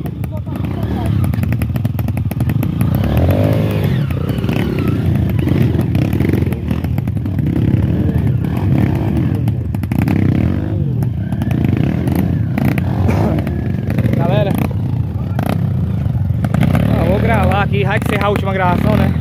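Trail motorcycle accelerating on a dirt trail at a Serrota, Ceará trail ride, a steady engine roar with clattering running throughout under near-constant shouting voices.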